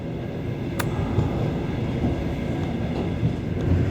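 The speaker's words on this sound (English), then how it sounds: "You can just make out the rest of the carriages and engine as we round this curve." A Trans-Siberian passenger train rounds a curve, heard from inside a carriage as a steady, loud rumbling roar with faint clicks and one brief sharp squeal.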